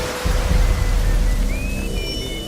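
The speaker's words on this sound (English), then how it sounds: "Yesterday's excessively steamy weather has given way to rain" Steady rain hisses as a loud, constant wash of noise, with faint whistling tones drifting over it.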